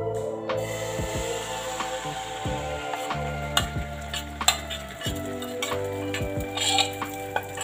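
Kalathappam batter goes into hot oil in a pan, giving a steady sizzle with scattered metallic clinks and scrapes of a utensil against the pan.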